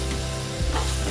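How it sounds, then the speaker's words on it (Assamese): Chicken pieces and potatoes are stirred in a hot pan for a chicken curry, giving a steady close sizzle of frying with a scraping swell of stirring near the end. "এতিয়া আলুখিনি দি দিম মই ইয়াতে। এতিয়া ভালদৰে লৰাই দিম।"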